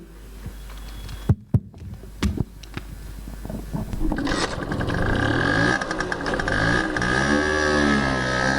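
A motorcycle engine rises from idle into a building revving roar that swells over several seconds as it pulls away, preceded by a few sharp clicks and knocks.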